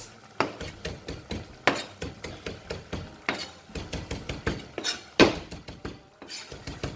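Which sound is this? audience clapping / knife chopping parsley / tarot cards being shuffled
knife chopping parsley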